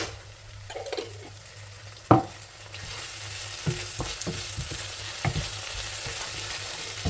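Onion, garlic and ginger frying in a pan for a coconut beef curry, with a soft sizzle that thickens after a sharp utensil clack, plus occasional light stirring knocks, no talking.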